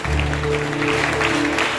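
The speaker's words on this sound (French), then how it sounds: "Dis-lui acclame très fort" A seminar audience at an Easter gathering cheers and applauds, producing a steady, loud wash of clapping and voices that fills the short moment without a break.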